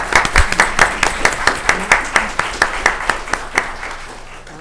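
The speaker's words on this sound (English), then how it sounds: "Let's give them a round of applause" Applause at a county board of commissioners business meeting: a small room of people clapping in a steady, rhythmic pattern, moderately loud and tapering near the end.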